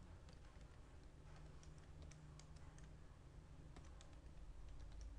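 Computer keyboard keys tapped in quick, faint bursts during a database programming lesson, soft clicks scattered steadily over a low background hum.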